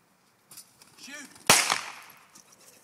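A single sharp shotgun blast fired at a bird during a hunt with a German shorthaired pointer, loud and close, with a brief echoing tail; a voice speaks just before the shot.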